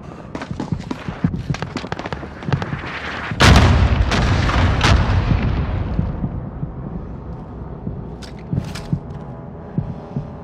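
An airstrike's bombing run in Call of Duty: Modern Warfare: scattered sharp shots, then a loud booming blast that rolls off into a long fading rumble, followed by a few sparse distant pops.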